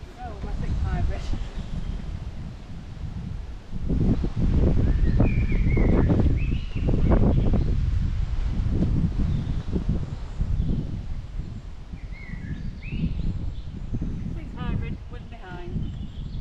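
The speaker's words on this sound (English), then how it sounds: "I think you've got wind slightly behind us as well, Corinne, remember?" Wind gusts across an open golf course, a steady broadband rush and buffeting that swells from the fourth second onward, while people talk over it nearby.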